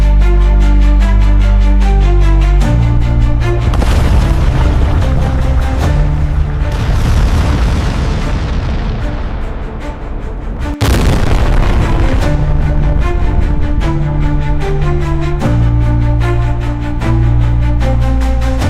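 A volcanic steam explosion: a massive, deep boom with a long rumbling roar that swells and fades, followed by a second sharp blast and continued heavy rumbling.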